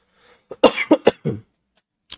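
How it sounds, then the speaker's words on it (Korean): A person coughs several times in a quick burst of four or five sharp, close coughs, followed by a brief pause and one short final cough, with no other sound around them. "기침 나려고 한다."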